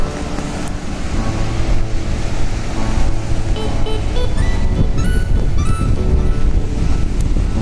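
Surf rolls and washes continuously along the shore of Aare Ware Beach, Ratnagiri, mixed with gusty wind buffeting the microphone; no one speaks.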